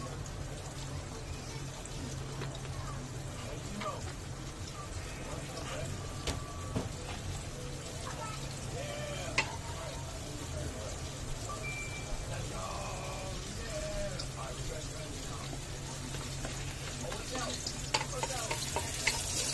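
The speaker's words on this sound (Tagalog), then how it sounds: "Sabayan natin yan ng ginisang repolyo. Konting mantika." Shredded cabbage sautéing in a little oil in a wok, busily stirred, gives a continuous soft sizzle with scraping and clatter. Faint background sounds sit beneath it.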